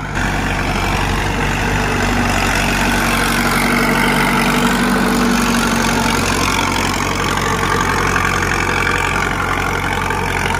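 A tractor engine rumbles steadily at close range for several seconds as the tractor turns, a low continuous drone with no voices.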